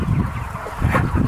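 Chickens on a large American chicken farm, a steady clamour of clucking and squawking fowl close by, with louder bursts near the start and toward the end.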